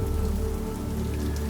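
Steady rain pattering on a window pane, a dense even hiss of drops close by that holds constant throughout with no breaks or voices.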